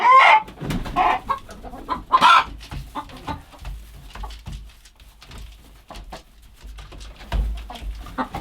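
Chickens cluck close by in loud, irregular bursts on a homestead, with a rooster among them and quieter clucking and faint movement filling the gaps.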